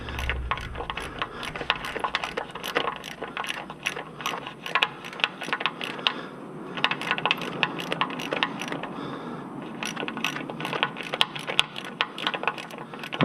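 A nut is driven down a threaded stud, giving a continuous run of quick, close ratcheting clicks with a fairly steady rhythm throughout.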